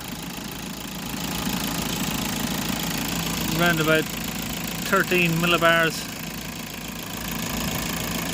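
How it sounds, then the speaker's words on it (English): An Audi A6 Ultra 2.0 TDI diesel engine idles during on-car DPF and EGR cooler cleaning, a steady low rumble running throughout beneath a man's brief speech. "Let the engine idle down, see where we are."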